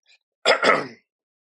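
A short, rough double cough bursts out once after a brief quiet moment, then silence.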